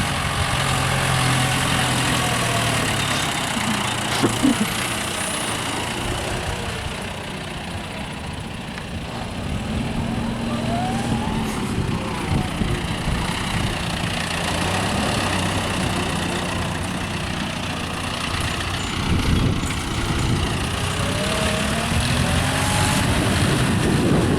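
John Deere tractors approaching across a field during pumpkin seed sowing, one pulling a cultivator, a steady rumbling engine drone with wind noise, growing slightly louder near the end, no talking.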